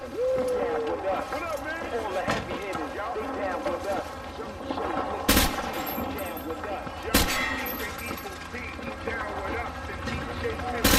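Gunshots ring out in a training range in the video game Call of Duty: Modern Warfare 2, with a few sharp, loud cracks spaced seconds apart over a busy game ambience and speech.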